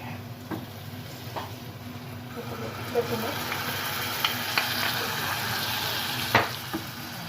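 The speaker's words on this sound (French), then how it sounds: "maintenant on ajoute les 2 tomates qui étaient fraîchement pelées et râpées" Freshly peeled, grated tomatoes hit a hot pan and sizzle steadily, a close, continuous frying hiss with faint clicks of stirring and no talk.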